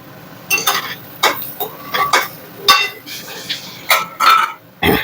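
Chili powder being stirred into fried elephant foot yam in a pan, with a spoon scraping and clinking against the metal in several short, separate strokes, close and fairly loud.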